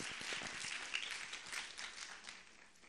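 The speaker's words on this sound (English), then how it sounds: "can we just give a round of applause?" An audience at a premiere event for a comic novella claps in a dense, steady patter that fades slightly toward the end. The applause sounds fairly faint and distant, with no speech over it.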